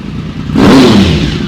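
A used superbike fitted with a Scorpion exhaust revs hard and close, its engine note rising into a loud, rough roar that holds steady after a quieter idling start.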